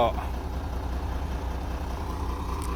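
A Hino bus diesel engine, 6-speed, idles steadily with a deep, continuous low rumble, close by and unchanging throughout.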